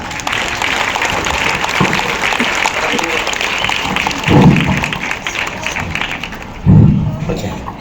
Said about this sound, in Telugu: సార్కి ఒకసారి బిగ్ క్లాప్స్.